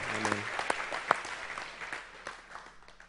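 A church congregation claps, scattered hand claps rising briefly then thinning out and fading, with a few sharp individual claps and faint voices underneath.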